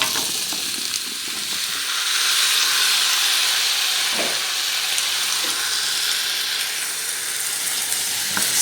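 Potatoes tipped into a hot pan of cooked onions for aloo saag set off a loud, steady hiss and sizzle that keeps going without a break, with an occasional faint clink of a utensil.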